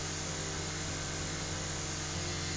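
A lawn mower trimming a grass edge in House Flipper, a steady, loud, unbroken motor drone with a faint periodic pulse, no talking.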